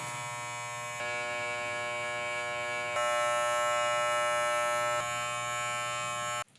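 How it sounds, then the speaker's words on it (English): An electric hair trimmer with no guard buzzes steadily at close range while trimming around the ears and the back of the head. The hum shifts in pitch and loudness a few times as it moves. "we're just going to use the trimmer, no guard."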